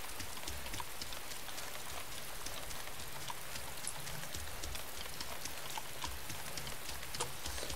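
Rain in the video game DayZ patters in a faint, steady hiss with scattered drops, continuous throughout.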